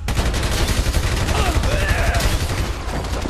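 Rapid bursts of automatic gunfire in the video game GTA V on PC, a dense, continuous fusillade of loud shots with faint speech underneath.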